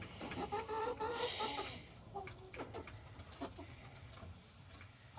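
Chickens cluck nearby in a run of soft, choppy calls, busiest in the first couple of seconds, then trailing off into scattered quieter clucks.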